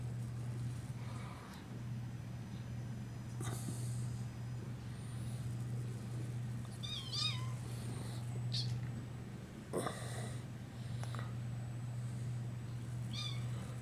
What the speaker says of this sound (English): Franklin, what are you two kittens doing?